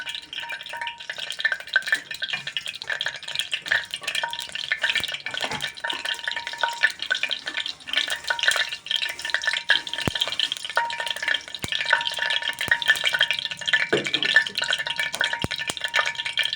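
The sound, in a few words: tempering vegetables in a pressure cooker, stirring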